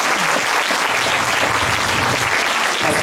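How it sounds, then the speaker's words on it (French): An audience at a mayor's New Year reception claps for municipal social services staff, a dense, steady wash of hands that holds at full strength throughout without any voices. "vous pouvez les applaudir."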